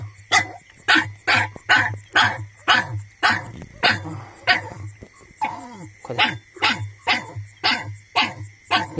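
A puppy that has fallen into a pit barks and yelps repeatedly in a steady, loud series of sharp cries close by, with a low steady hum underneath.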